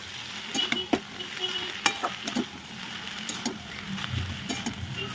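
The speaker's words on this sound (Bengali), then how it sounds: "ওই চাউমিনটা আমি এবার মিশিয়ে নেবো ভেজিটেবল দিয়ে।" Chowmein noodles tossed with vegetables in a pan, with soft continuous stirring and light sizzle punctuated by sharp spatula scrapes and clinks against the metal, close and fairly quiet.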